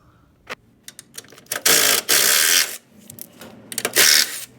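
Ratchet spinning off 13mm sway bar bracket bolts underneath an Audi A4 B6 on jack stands, heard as bursts of rapid clicking and metallic rasping, two longer sustained runs with short taps between, close by.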